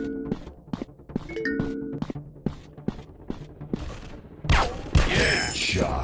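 Rapid gunfire bursts from a first-person shooter game (PUBG), a string of sharp repeated shots over electronic tones, then a louder crashing blast near the end.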